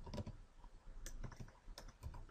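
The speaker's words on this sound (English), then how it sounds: "I'm going to type it out in PowerPoint" Soft, faint clicks of a computer keyboard being typed on, a few scattered keystrokes in a short uneven burst with no voices.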